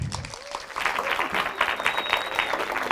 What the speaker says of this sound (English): Nice big round of applause one more time for Lucy, please.